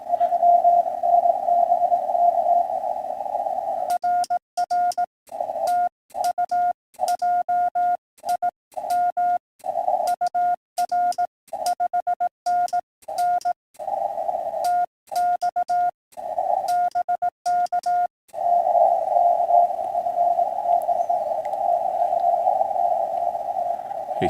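A steady RTTY radio signal keyed on and off in rapid irregular bursts, a continuous tone with choppy gaps through the middle, fairly loud and alone, from a contest station starting to fade.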